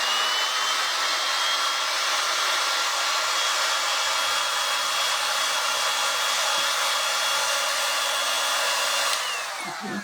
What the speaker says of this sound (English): Let me just dry this real quick